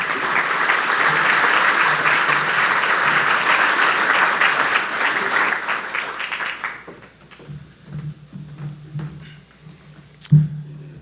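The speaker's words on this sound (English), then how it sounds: "give Sam a warm round of applause as he comes up to the stage" A conference audience at the 2019 RESO Fall Conference in St. Louis applauds warmly as a speaker walks on stage; dense clapping fills the room for about seven seconds, then fades into quiet footsteps and a few small knocks.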